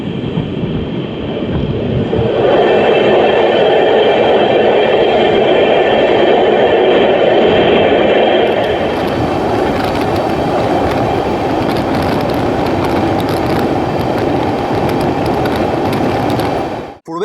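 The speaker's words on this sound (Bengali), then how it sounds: "প্রবেশ করতে চলেছে আমাদের ট্রেন তার অন্তিম গন্তব্য মিজোরামের সাইরাং স্টেশনে" Sairang Express (13125) from Kolkata pulling into Sairang station in Mizoram, a loud, steady rumble of rolling coaches and rail noise that continues for the whole stretch and fades abruptly at the end.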